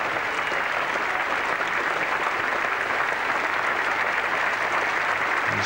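Cricket crowd at Edgbaston in a 1985 England v Australia Test applauding Tim Robinson's century, a steady, broad wash of applause from a large crowd, distant and sustained throughout with no break.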